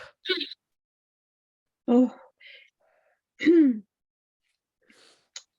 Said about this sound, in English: when I was clearing my throat